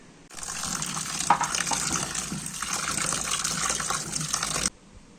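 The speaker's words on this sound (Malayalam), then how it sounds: "ഇനി ഇതിനെ നന്നായി കഴുകിയെടുക്കണം." Chopped soursop pieces rinsed under running tap water in a sink, a steady close gush that starts abruptly and cuts off after about four seconds, with a brief splashy surge early on.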